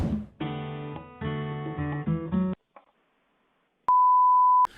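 A telephone on a call to a coin shop plays a short tone melody, then after a pause a single long, steady beep rings out clearly, close and loud.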